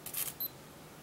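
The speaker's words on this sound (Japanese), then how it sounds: "シャッターボタンを半押しします。" A Canon IXY Digital 110 IS compact camera gives a soft, brief mechanical whir as its shutter button is half-pressed, followed by a tiny high focus-confirmation beep, faint and alone in a quiet room.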